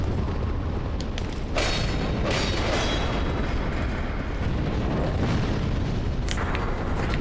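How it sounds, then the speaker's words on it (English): Deep rumbling explosions in Dark Souls 2 boom repeatedly over a sustained roar, with several sharp bursts spread through the stretch and no talking. "explosions can hit me through a wall without damaging the wall"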